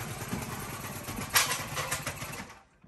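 A small propane-powered engine, likely an ice auger, runs outdoors while ice fishing, a rough buzzing drone that surges briefly before cutting off near the end.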